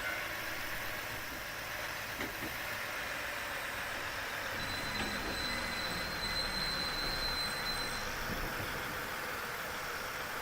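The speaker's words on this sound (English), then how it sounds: "enjoying the train ride." A train ride in the video game Nostalgic Train carries a steady, even rumble of the carriage with a faint high whine partway through, continuous and unbroken, with no talking.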